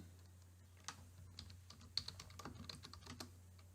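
Quick, light keystrokes on a computer keyboard as a table title is typed, a close, quiet run of irregular clicks with no talking.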